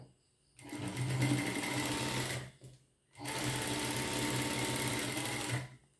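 An electric sewing machine stitches a cut blouse back piece in two loud, steady whirring bursts, each about two to three seconds long, separated by a short pause.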